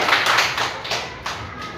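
Students clap their hands together in a classroom, a dense burst of claps at close range that fades briefly and then picks up again.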